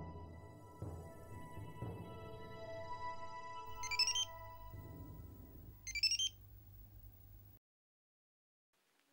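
A phone rings mid-call in a Marathi TV drama scene: two bright warbling ring bursts rise over a steady tonal musical bed, and the sound cuts to near silence at the end.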